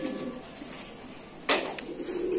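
Soft, low cooing from a white Bombay pigeon, close, alongside a brief sharp rustle or flap near the middle and a steady background hum.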